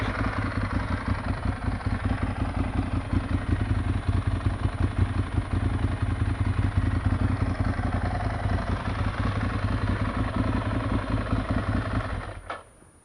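Ducati Monster 796 motorcycle engine running steadily at idle, a close, continuous, loping clatter with a pulsing rhythm that holds for many seconds before cutting off abruptly near the end.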